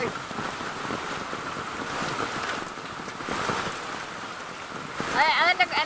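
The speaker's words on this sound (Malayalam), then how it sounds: "വളരെയധികം മഴ പെയ്യാണ്" Heavy rain pours down as the Meenachil river floods a yard and compound, making a dense continuous hiss with rushing water, and a voice breaks in near the end.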